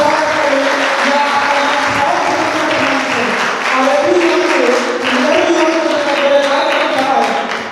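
Loud, sustained crowd applause at a district youth parliament award ceremony, with dense clapping filling the whole stretch and murmuring voices mixed underneath.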